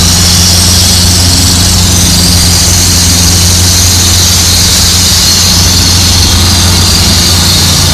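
A 1955 Ford 850 tractor engine at a tractor pull roars loud and close, a steady heavy drone with a sustained high squeal running over it throughout.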